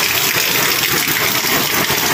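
Heavy typhoon rain and wind make a loud, continuous roaring rush close by, a dense unbroken wash of noise with no talk over it.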